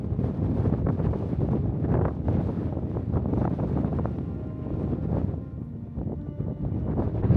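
Strong wind buffets the microphone on the summit of Tolsta Košuta in the Karavanke mountains, a loud, continuous rumbling roar that surges and dips throughout.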